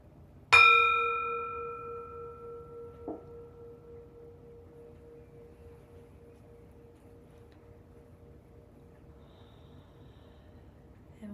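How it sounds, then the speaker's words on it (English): A single meditation bell is struck once, ringing out clear and loud with a bright onset, then sustaining in a long, slowly fading hum. A faint second tap follows a few seconds later, and the tone decays into near silence. "So here comes the bell and we'll get started."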